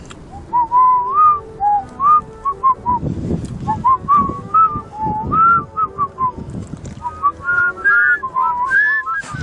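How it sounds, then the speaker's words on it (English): A man whistles a slow, wavering hymn tune on his own, close and fairly loud, each phrase broken by short breaths, with faint rustling and background noise underneath. "Whistle us a hymn."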